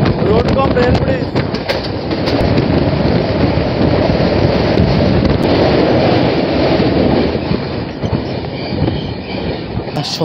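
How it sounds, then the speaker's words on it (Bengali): Chennai Mail train rolling across the Godavari road-cum-rail bridge, with a loud, steady roar of wheels and carriages and faint clattering and squeals throughout, heard from inside the train. "আমরা এখন অতিক্রম করছি গোদাবরী নদী, যেটি হলো একটি রোড কম রেল ব্রিজ"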